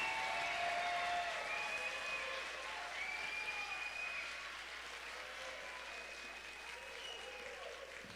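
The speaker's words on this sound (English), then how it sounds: "let's give them one more round of applause" Sustained applause from a large audience for graduates at a community college commencement ceremony in a civic center, fairly distant and gradually thinning, with faint whoops and cheers above the clapping.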